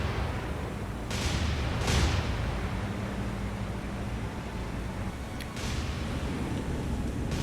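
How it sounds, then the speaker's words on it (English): Anti-aircraft guns and secondary batteries firing during a naval battle against Japanese dive bombers in War on the Sea, a few sharp distant reports over a steady, low rumbling background noise. "There's aircraft guns, anti-aircraft guns there, secondaries."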